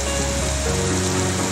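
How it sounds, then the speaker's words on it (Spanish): A steady hiss of continuous rain pours down on house rooftops without pause, dense and even, with a faint tonal hum underneath. "Ahora sí tenemos una lluvia continua"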